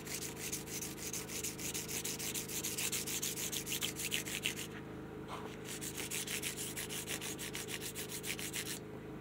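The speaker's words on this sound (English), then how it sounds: "So I'm going at an angle that just hits the end of the frets here in order to get rid of any burrs or anything in the center." Sanding guitar fret ends at an angle with abrasive to remove burrs: rapid rhythmic back-and-forth rubbing strokes, close and steady, with one brief pause midway.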